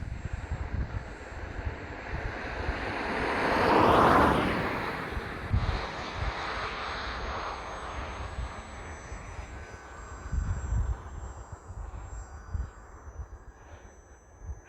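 A radio-controlled model propeller airplane buzzes past outdoors, swelling as it passes close, then droning on more faintly under steady wind noise.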